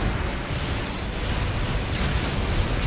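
Shoulder cannon fire in a mech video game, heard as a dense, sustained roaring blast that holds loud and steady for a few seconds, with nobody talking.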